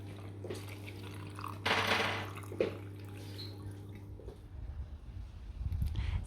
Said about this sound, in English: So I'm just going to go and add the pickling vinegar mix.